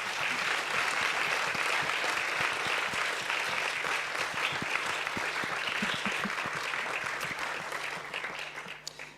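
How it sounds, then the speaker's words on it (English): A conference audience applauds panelists after a keynote debate on science-policy partnerships, with dense, sustained clapping from a large room that holds steady and then begins to taper near the end. "give please a warm applause to our panelists"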